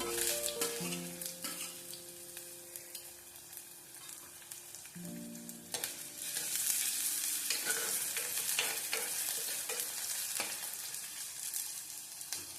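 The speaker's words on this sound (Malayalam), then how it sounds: "ഇനി ഇതിലേക്ക് നമുക്ക് പച്ചമുളകും ഇഞ്ചിയും കൂടെ ചേർത്ത് കൊടുക്കാം. എന്നിട്ട് ഇതൊന്ന് മൂപ്പിച്ചെടുക്കാം." Shallots, garlic, green chilli and ginger sauté in a pan for a Kerala-style fish curry with kudampuli. A busy sizzle is broken by repeated spatula scrapes and clatters, growing louder midway, with brief music at the start.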